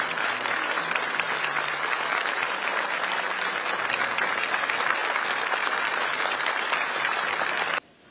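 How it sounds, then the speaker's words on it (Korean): A large indoor crowd gives sustained, dense applause to welcome Korea's Minister of Justice at a ceremony. The clapping is steady and loud, then stops abruptly at the end. "큰 박수로 환영해 주시기 바랍니다."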